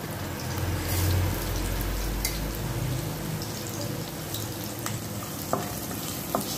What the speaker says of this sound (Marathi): तेलात हाय फ्लेमवर व्यवस्थित भाजून घ्यायचे आहे.